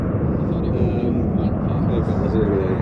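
An aircraft arriving at Sywell Airshow 2024, a steady loud engine drone that holds throughout, with people talking over it.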